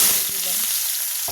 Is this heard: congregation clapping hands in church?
no